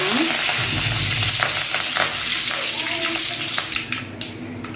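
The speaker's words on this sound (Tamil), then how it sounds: "இப்போ இது கூட நம்ம கருவேப்பிலை சேர்த்துக்கலாம்." Curry leaves drop into hot oil with popped mustard seeds for South Indian tomato rice, setting off a loud, dense, continuous sizzle and crackle up close, with a faint clatter of stirring near the end.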